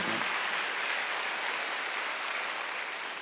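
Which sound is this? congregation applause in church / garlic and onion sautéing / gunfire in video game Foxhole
congregation applause in church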